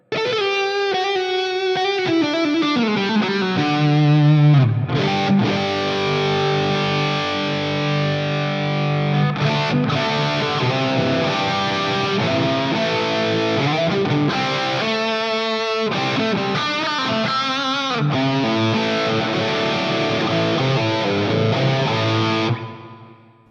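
A PRS Paul's Guitar electric guitar, heavily distorted, plays sustained chords and riffs for over twenty seconds, loud and thick, ending with an abrupt cutoff.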